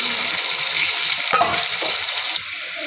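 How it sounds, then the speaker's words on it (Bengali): Spice masala sizzles hard in a pan as hot water goes in for a fish bhuna, a loud continuous hiss with scraping stirs and a sharp burst partway, easing slightly near the end. "মশলাটা কষানোর জন্য দিয়ে দিব কিছুটা গরম পানি।"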